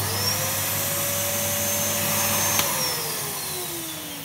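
Orange Basil NB200 Henry hoover with a UDS motor, running steadily after repair, its whine shifting pitch slightly partway through, alone and close.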